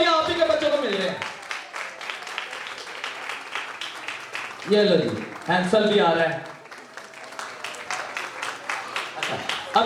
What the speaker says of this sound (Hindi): जोरदार तालियां कम हो रही है